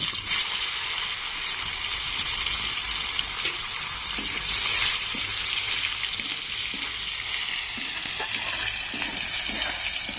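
Soybean chunks fry in oil in a pan with a loud, dense, continuous sizzle that holds steady and close throughout, with no talking.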